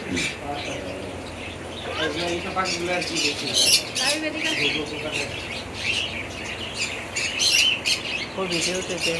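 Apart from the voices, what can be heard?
pet birds chirping and squawking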